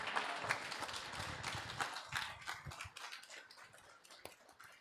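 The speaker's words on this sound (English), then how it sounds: "Can you all give my wife a round of applause" Audience applause at a celebration of life for Rosalia, a dense patter of many hands clapping steadily throughout, moderately loud and filling the room.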